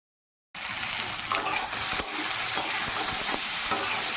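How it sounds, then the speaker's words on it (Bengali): Steamed soybean chunks begin frying in a pan on a stove after a brief silence: a sudden dense, even sizzle that holds loud and steady with a few soft stirring knocks. "সয়াবিনটা গরম জলে ভাপিয়ে তারপরে যে ভাজা চাপিয়ে দিয়েছি।"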